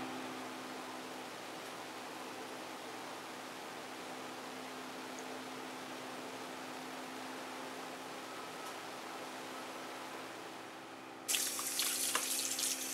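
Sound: rinsing shrimps under cold running tap water

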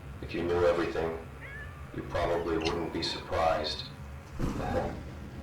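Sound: cat meowing in video game The Floor Above

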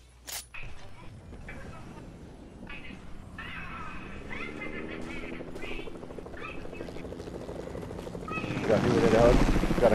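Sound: helicopter flying nearby in a video game

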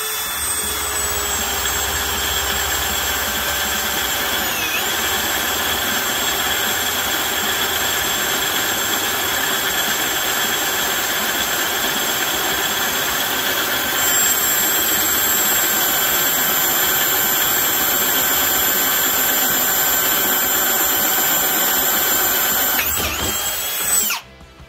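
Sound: Ryobi One+ HP PBLDD01 drill boring holes at speed 1, 7/16 bit

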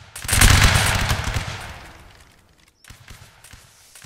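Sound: musket volley fired by a line of soldiers, Napoleonic Wars video game

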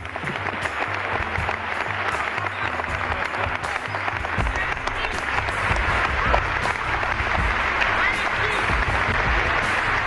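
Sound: audience applause

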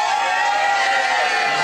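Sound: audience applause

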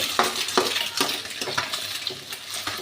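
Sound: stirring eggs frying in a pan for egg rice

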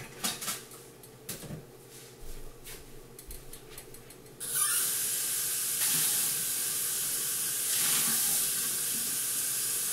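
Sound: pouring more water into pot for cooking egglettes

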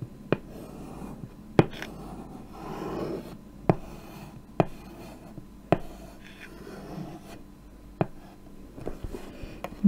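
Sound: chalk writing on a chalkboard

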